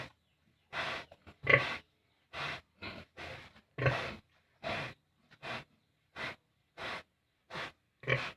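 A pregnant sow, overdue at 114 days, pants heavily in quick, rhythmic breaths, each a short raspy huff, repeating steadily and close by with nothing else around.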